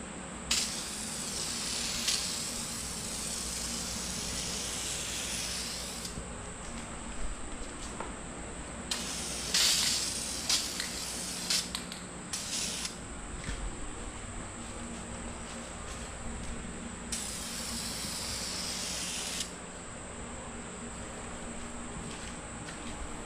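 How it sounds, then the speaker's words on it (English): Aerosol spray paint hissing onto a Mitsubishi Evo X strut bar, a light first coat with no primer, in several sustained bursts of a few seconds each, with short pauses between them and no talking. "Let's do a light first coat."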